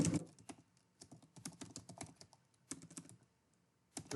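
Rapid bursts of clicky keystrokes on a computer keyboard come in quick runs separated by short pauses, close and clear with no voice.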